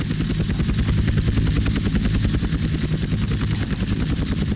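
Helicopter in GTA San Andreas flying and slowing to land on a target zone, a loud continuous rotor chop with a steady rapid beat and droning engine throughout, no voices.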